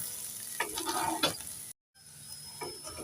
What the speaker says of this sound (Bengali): এবার উপর থেকে দিয়ে দেব এক চামচ গোটা পোস্ত একটু নেড়ে চেড়ে দিয়ে দেব